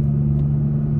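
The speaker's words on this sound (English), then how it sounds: "Now I'm going to upshift to fourth." Steady engine drone from a Toyota Tacoma driving in sport mode as it upshifts to fourth gear, a low continuous hum with no clear rev change, heard from inside the cab.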